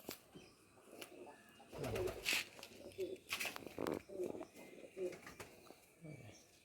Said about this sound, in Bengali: এটা এটা দোবাজ পায়রা আছে, দুর্ধর্ষ।